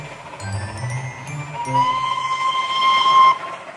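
A small railway engine's steam whistle in a Thomas & Friends cartoon, a sustained bright tone that rises out of a low rumbling train background, loud and close, holding for a couple of seconds before cutting off.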